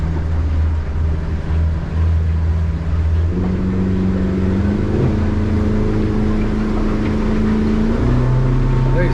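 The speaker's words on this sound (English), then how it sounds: "This motor's running, the starboard." Single outboard motor pushing a Stabicraft 2500 aluminium boat on the water, a loud steady drone that climbs in pitch as the boat picks up speed.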